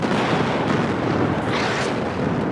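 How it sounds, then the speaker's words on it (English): Artillery fire in the WARNO war strategy game makes a dense, continuous rumble of blasts and crackling impacts, loud and broadband, with no talking. "Artillery is coming in on top of these units here"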